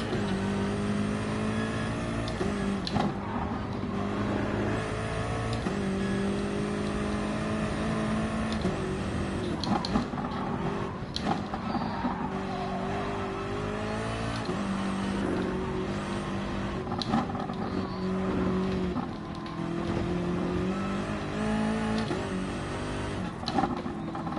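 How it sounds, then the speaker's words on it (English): A racing car engine drones and revs continuously around the Nordschleife in Gran Turismo Sport, with the pitch rising and falling through gear changes and loud throughout. "At least it's a racing car that I'm in"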